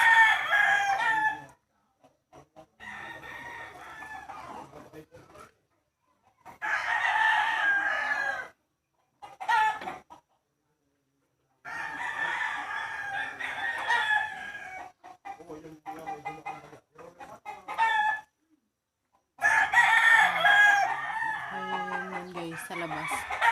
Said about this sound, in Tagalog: Pasensya na guys sa mga tiktilaok ng manok.